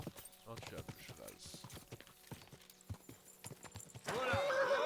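A horse's hooves clip-clop in the medieval video game Kingdom Come: Deliverance 2, a loose run of sharp knocks under someone talking, ending in a loud swell of game sound.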